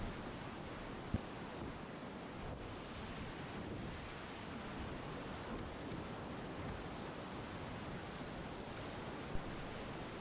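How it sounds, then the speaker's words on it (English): Steady roar of river whitewater churning through a rapid full of waves and holes in a basalt canyon on the West Fork Hood River, a continuous broadband rush with no voices. "This rapid is just full of waves and holes"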